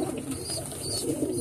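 Pigeons cooing in a loft, soft low repeated coos close by amid steady background noise.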